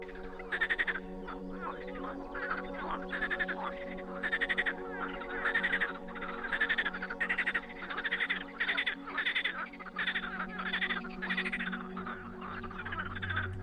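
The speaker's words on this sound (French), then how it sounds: "j'entends les grenouilles s'exprimer non loin de moi" A chorus of frogs croaks in short, rhythmic bursts, repeating steadily over a continuous hum, with nobody speaking.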